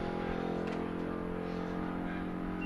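A drag race car at a bracket race on a Kansas dragstrip, its engine droning steadily and fairly faint at a distance, with no talk.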